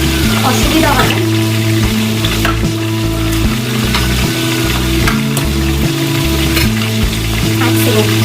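Chicken curry frying in oil in a wok, stirred with a spatula: a steady loud sizzle with scraping stir strokes throughout, and no talking.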